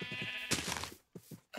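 Sheep bleating in Minecraft, a few short, quavering game bleats in quick succession, faint and alone.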